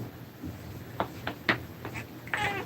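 A house cat meows several times in a row, with short, rising cries spaced about half a second apart. The calls are close against a quiet indoor background.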